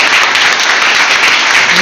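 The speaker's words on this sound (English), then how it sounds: "a big round of applause for John sir" Loud, dense audience applause at a school English debate competition, sustained evenly and close throughout with no voices.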